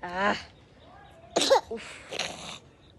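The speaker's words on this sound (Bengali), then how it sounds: "প্রচুর প্রচুর কাশি বাবা, কফ একদম বসে আছে।" A child with heavy chest congestion and phlegm coughs in a few harsh, wet bursts, close and fairly loud, after a short vocal sound at the start.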